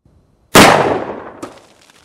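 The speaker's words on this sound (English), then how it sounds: "If you do everything right, sight alignment and a smooth trigger control, this is what it's going to look like with a revolver." A single sharp revolver shot cracks out loud and close, its blast trailing off over about a second, followed by a fainter metallic knock.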